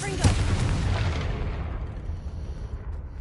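Confringo spell explosion from Hogwarts Legacy, a sharp loud blast that booms and then rumbles away into a fading tail.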